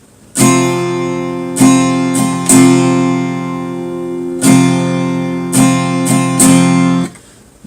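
Acoustic guitar strum pattern for a worship song, loud and close: bright full chords struck in a rhythmic down-up pattern with short pauses, ringing on its own without voice.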